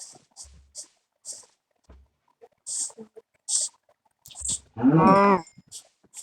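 A cow in the Minecraft video game lets out one loud, drawn-out moo near the end, after a scatter of short, quiet game clicks and thuds.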